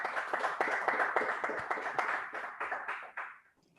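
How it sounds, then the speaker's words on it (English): An audience claps and applauds after a speaker introduction at the Geomundus 2020 conference, a brief burst of dense hand clapping that fades out over about three seconds. "Give him a huge round of applause"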